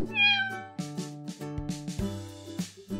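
A cartoon cat meows in a children's alphabet animation, one clear high meow at the start followed by a light musical backing.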